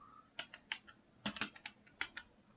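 Computer keyboard keys clack while Python code is typed, short irregular bursts of crisp taps with brief pauses between, close and fairly quiet in a still room.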